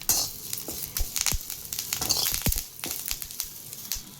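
Curry leaves crackling as they fry in hot oil, sharp pops and crisp snaps over a bright continuous sizzle, close up and fairly loud, with no voices.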